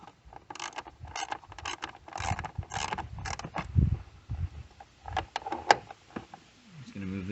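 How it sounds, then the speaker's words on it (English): Ratchet clicks and metallic mechanism sounds from a 10mm ratchet loosening the battery terminal bolts on a 2013-2018 Ford Focus, heard close up in short bursts among handling noises, with a voice talking over parts of it. "just use your 10mm ratchet to loosen those up"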